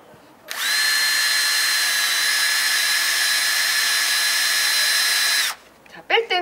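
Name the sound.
electric drill boring a hole in a tree trunk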